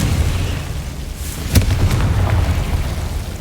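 A Confringo fire-blast spell in Hogwarts Legacy bursts with a sharp crack over a constant low rumble, followed by a few smaller crackles. It is loud and close.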